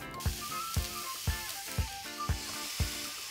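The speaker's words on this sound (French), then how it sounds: "La viande peut être placée sur la plaque." Meat sizzles steadily on a Tefal Optigrill contact grill, a dense continuous hiss with soft rhythmic pulses recurring about every half second, close and unaccompanied by voices.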